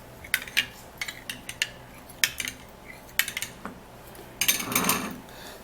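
A spoon clinks and scrapes against a bowl while stirring a mixture of carrot juice and Vaseline, quiet close taps in an irregular rhythm, with a brief burst of faster scraping near the end.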